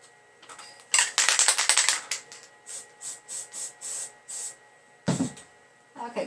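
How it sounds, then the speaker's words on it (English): Short hissing bursts from a spray can coating the edges of a handmade Christmas card, a dense cluster of sprays followed by a steady row of separate puffs and a final burst. "So I'm going to respray this real quickly."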